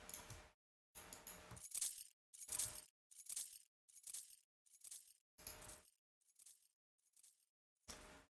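Chains pitched down with delay: a series of about ten metallic jangling hits in an uneven rhythm, separated by short gaps, with the later hits quieter like repeating echoes, heard alone.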